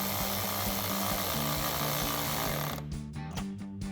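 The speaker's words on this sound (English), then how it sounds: "now we can go ahead and tighten all of our clamps down here, here, and here using our 11mm socket" An 11mm socket on a ratchet tightens the intake clamps of a Dodge Charger's aFe Momentum GT cold air intake. It is a steady, dense mechanical whir that cuts into short choppy bursts near the end.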